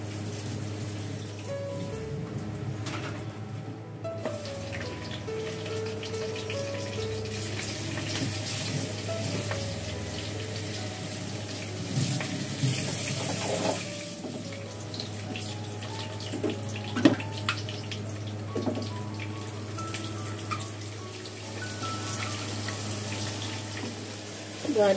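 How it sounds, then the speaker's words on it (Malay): Running tap water flows continuously with clinks and scrapes of dishes, plus a low steady hum underneath; occasional faint voices. "Nak basuh pinggan kena bersopan santun"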